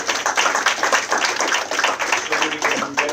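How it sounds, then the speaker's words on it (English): Mourners at a memorial service clap their hands together, a dense run of overlapping claps sustained throughout with a few voices mixed in among the crowd. "Can we just clap hands as we celebrate the time of the man?"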